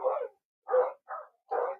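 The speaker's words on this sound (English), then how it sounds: "The dogs are going nuts." Dogs barking indoors, four short, sharp barks in an uneven rhythm with brief silences between them, close and fairly loud.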